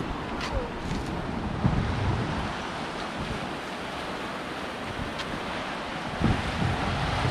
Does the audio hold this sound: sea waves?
yes